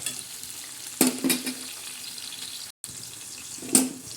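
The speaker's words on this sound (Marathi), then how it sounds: "मस्त असे छान तांबाटे असे परतून घ्यायचे असा लालसर कांदा करायचा" Onions and tomatoes sautéing in a kadhai for a greens stir-fry: a steady low sizzle, with a few louder bursts of stirring near the start and again toward the end.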